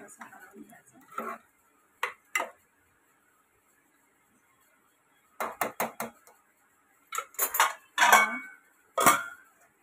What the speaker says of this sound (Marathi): हे आता आपण कालवून घेऊया सर्व व्यवस्थित असं कालवून घ्यायचं.